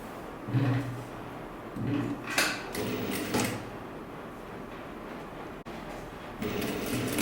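A sewing machine stitching a dart on fabric for a sleeveless top, a low mechanical whir in short bursts with clicks and handling noises, fairly quiet and close.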